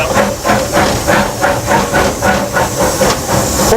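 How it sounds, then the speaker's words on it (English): A rare steam locomotive hisses steam loudly and close by, the steady roar pulsing in an even, repeating rhythm like chuffing, with no voices. "Well, most of the steam locomotives that still do exist are in a park with a fence around them."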